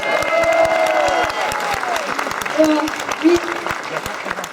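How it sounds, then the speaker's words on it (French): Audience applause breaks out at a Bal des quenelles gathering, scattered clapping and some cheering in a crowd, with a voice and other chatter running over it throughout. "Vous pouvez l'applaudir aussi"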